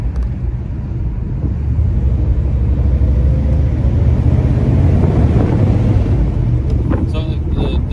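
A 1957 Ford Thunderbird convertible with a three-speed manual and overdrive rumbles along on a drive, its low engine drone steady and loud under wind buffeting, with the driver talking over it.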